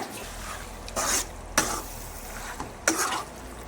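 Squid being stirred in a pan makes a soft background sizzle broken by a few distinct bursts of scraping and clatter from the utensil against the pan.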